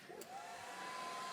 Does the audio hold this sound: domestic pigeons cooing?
no